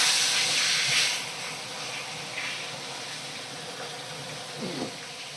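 Bhetki fish pieces fry in a pan, giving off a steady, moderately loud sizzling hiss that swells and eases slightly, with no talking.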